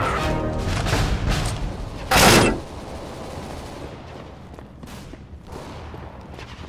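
Gunfire in a CS:GO Team Deathmatch match, with one loud, dense burst of shots standing out over the continuous rumbling game noise around it.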